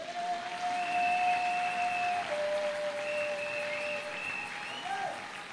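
A church congregation applauding and acclaiming the Lord during a sermon, with steady sustained clapping and cheering filling the room, while a held tone from an organ or keyboard sounds beneath it.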